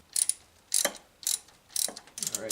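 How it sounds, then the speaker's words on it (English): A ratchet on an extension removes 8mm bolts in four short, crisp bursts of rapid clicking, close and isolated, with brief gaps between strokes. "I'm just going to use like a normal extension, and we should be able to get them off with no problem."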